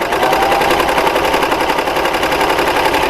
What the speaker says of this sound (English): We're going to stitch along, and we're actually piecing with our 1/4 inch stitch right now.